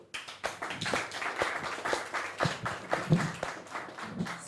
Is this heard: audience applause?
yes